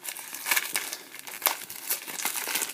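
A tape-sealed parcel holding a Raspberry Pi Zero case is pulled open with close, irregular bursts of crinkling and tearing packaging.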